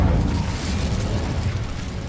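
Incendio fire spell cast in Hogwarts Legacy, a loud whooshing burst of flame that roars steadily and full-bodied for a couple of seconds, with no talking.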